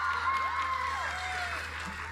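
A graduation audience applauds and cheers for a graduate in a steady, dense wash of clapping that holds throughout, with a few bright whistles or whoops sliding over the crowd.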